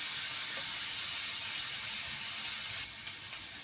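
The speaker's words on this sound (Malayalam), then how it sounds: "നല്ലോണം വഴന്ന് വരണേ." Ivy gourd and vegetables sauté in a hot pan for a curry, giving a steady, close sizzling hiss that runs unbroken and eases slightly near the end.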